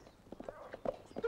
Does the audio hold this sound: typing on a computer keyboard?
no